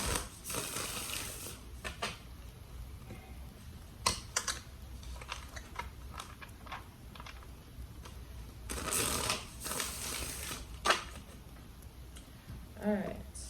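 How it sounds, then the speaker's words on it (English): A deck of tarot cards is shuffled by hand in soft, crisp bursts of riffling and sliding, the strongest near the start and again toward the end, close-up in a quiet room. "Alright, 2 more shuffles."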